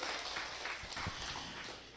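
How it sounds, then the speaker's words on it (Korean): A church congregation applauds during a worship service, a steady, fairly faint wash of many hands clapping together for about two seconds, with no single claps standing out. "주의 뜨거운 박수를 합니다"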